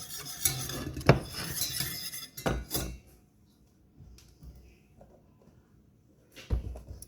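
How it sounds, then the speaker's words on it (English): Milk and honey being stirred in a pot on a stovetop, with a few bursts of utensil scraping and clinking against the pot separated by quiet pauses. "I'm just using this to mix the milk and the honey."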